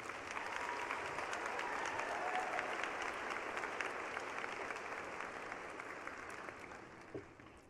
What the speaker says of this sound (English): Let's show that appreciation with a round of applause.